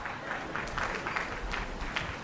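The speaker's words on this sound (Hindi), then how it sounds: "ये देखो कुछ भुक्तभोगी ताली बजा रहे हैं" An audience at a motivational speech claps in a steady, continuous burst of applause that fills the room at moderate loudness throughout.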